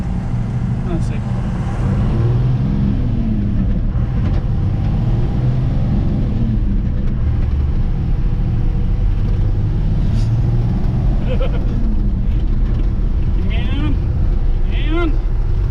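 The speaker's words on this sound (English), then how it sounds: "We can roll through the gears up the road here" A car accelerating up a road through its gears, the engine droning loud and steady from close inside the cabin with a rising pitch throughout.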